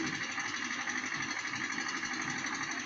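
Steady industrial machinery drone with a dense mechanical rattle from ships unloading cargo at the Shah Cement factory jetty in Narayanganj, Bangladesh, continuous and fairly loud throughout.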